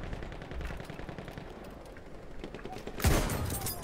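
Gunfire crackles in a Battlefield 1 desert match, starting as quick faint rattling bursts and ending in a louder, closer volley near the end, with a player's voice in the background.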